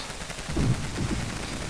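Artillery cannons fire in a Total War: Shogun 2 battle, two dull booming blasts about half a second apart over a steady rumbling battlefield din.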